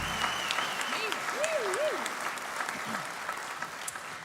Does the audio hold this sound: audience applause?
yes